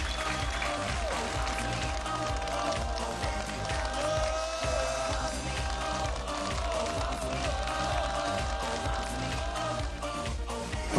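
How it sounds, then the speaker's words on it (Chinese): Studio audience applause on a Beijing dating show, dense sustained clapping and cheering filling the room at steady loudness throughout, with faint voices mixed into the crowd. "掌声有请"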